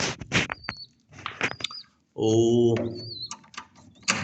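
Pet pigeons cooing in a home loft, soft repeated low coos between stretches of a man's nearby speech, with faint chirps and rustling.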